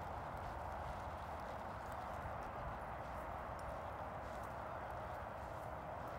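A horse in training walks with a steady, even clip-clop of hooves, fairly faint and muffled under a constant wash of background noise, with no voices.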